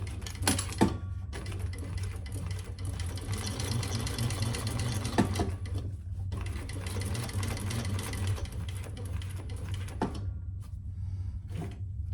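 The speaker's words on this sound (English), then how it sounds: "let's stitch around that inside" A sewing machine stitches around the lining of a leather crossbody bag, running in quick mechanical bursts with brief pauses between them, close and clear with no speech.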